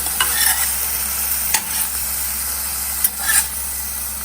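Paneer sautéing in a pan for a satvik paneer kadhi, a steady close sizzle with occasional stirring scrapes and clinks against the pan, no voices.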